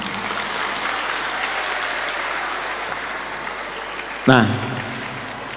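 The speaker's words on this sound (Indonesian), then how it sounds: "Ya boleh tepuk tangan ya." An audience at an outdoor religious gathering for a regency anniversary gives sustained broadband applause for several seconds, and a voice cuts in near the end.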